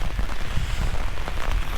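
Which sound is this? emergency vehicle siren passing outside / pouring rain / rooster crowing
pouring rain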